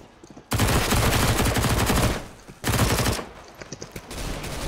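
Shotgun blasts in a video game ring out in two long, loud bursts of dense, rapid fire, separated by a short gap, then a third burst starts near the end.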